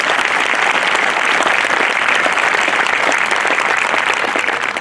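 Steady, dense applause from a crowd at a high school graduation ceremony, a continuous even wash of many hands clapping for scholarship recipients, loud and sustained throughout.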